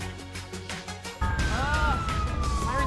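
An emergency vehicle siren bursts in partway through, wailing loud and close in rising and falling sweeps after a short stretch of music in a firefighter drama.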